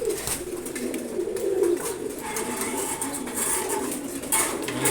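Pigeons cooing while being fed in the morning, repeated low throaty coos close by, with light clinking and pecking sounds and faint background noise.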